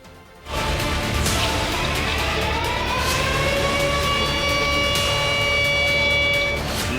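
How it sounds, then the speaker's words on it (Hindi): Warning sirens wail over Gawal Mandi in Rawalpindi during flooding of Nala Lei, a loud sustained rising and falling tone with layered pitches over a dense rushing background. "गवाल मंडी में खतरे के सायरन बज उठे"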